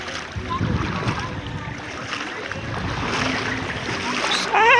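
Waves surge and splash against a boat in a steady rush of water and wind, with faint voices in the background.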